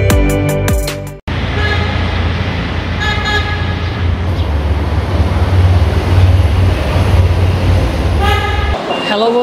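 Motijheel metro rail station in Dhaka fills with a loud steady rumble of a train and station machinery, broken by short tonal chimes or horn toots near the start, middle and end.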